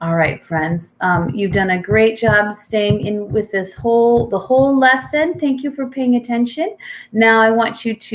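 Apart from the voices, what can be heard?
None of the usual background noises is heard.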